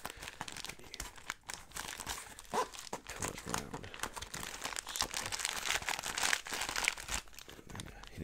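Sticky tape being pulled off the roll and pressed down, giving close crinkling and rustling with sharp crackly bursts through the whole stretch, with no talking.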